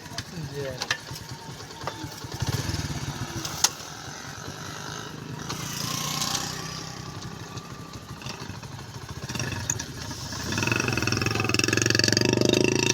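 Motorcycle riding along a village road beside a canal in rural Pakistan, a steady mid-pitched engine drone running throughout and swelling louder toward the end, mixed with background voices.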